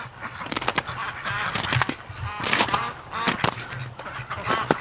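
A flock of breeding ducks tearing up frozen muddy ground near a lake honk and quack in loose, overlapping bursts, fairly close.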